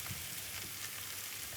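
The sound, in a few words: mushrooms added to sautéed masala, frying in pan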